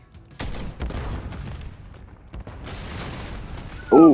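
Call of Duty Search and Destroy gunfire: a loud burst of rapid shots rattles close, then trails into further scattered firing and a sharp electronic blip at the end.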